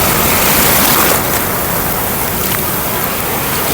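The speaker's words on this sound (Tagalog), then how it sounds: "malaking alon" Big ocean waves crash onto a beach in a steady, loud, close roar of surf and churning water, easing slightly after the first second and continuing without break.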